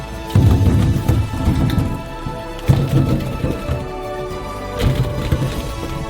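Steady rushing of running water filling a sink to wash oranges, a continuous splashing hiss with a few louder surges, no voices.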